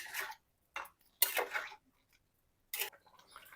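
A spoon scrapes and clinks against a pot while stirring moong dal with bottle gourd, salt, sugar and turmeric, in short separate bursts with pauses between.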